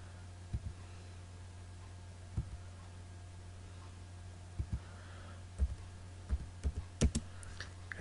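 A computer keyboard tapped sparsely while entering AutoCAD commands, a dozen or so isolated keystrokes and a few quick pairs over a steady electrical hum, close and fairly quiet, no voice.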